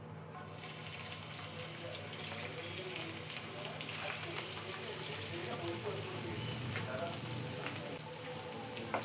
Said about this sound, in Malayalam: ആദ്യം ഇതിലോട്ട് ഇഞ്ചി വെളുത്തുള്ളിയും പച്ചമുളകും കൂടി ചതച്ച് വെച്ച് ചേർത്ത് കൊടുക്കാം